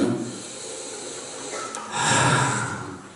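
Two close, audible breaths: a sharp inhale followed by a longer, deep breath drawn in and released, with a soft airy hiss.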